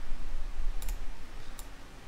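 Computer mouse clicks while modeling in Autodesk Maya 2020, two short, crisp, close clicks spaced under a second apart over faint background hiss.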